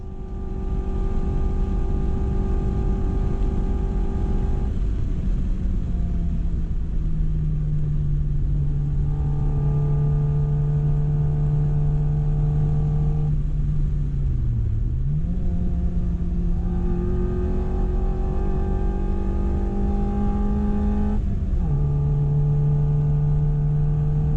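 A Classic Mini drives laps of the Goodwood race track, its engine droning steadily from inside the car. The pitch rises and falls as it shifts gears, dipping briefly under a quick lift off the throttle before pulling hard again.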